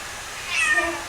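A single short meow from a cat, moderately close and fairly soft, rising and falling over under a second against quiet room background, with no speech.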